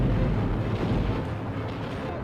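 Continuous low rumbling booms of World War I battlefield artillery fire, a dense, heavy roar that fills the whole span without pause, loud and close, with no voices.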